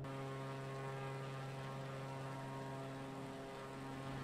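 Steady, loud drone of a propeller aeroplane flying in Microsoft Flight Simulator 2020, a constant engine tone with strong harmonic hum running unbroken throughout, no talk.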